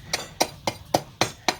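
Six sharp, evenly spaced knocks about a quarter second apart, like a blade or tool chopping hard palm sugar into small pieces on a board, close and clear with no voices.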